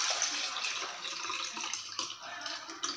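Water pours steadily over soaked black urad dal in a bowl while the skins are washed off for soft idli batter, a close, continuous splashing rush with small surges.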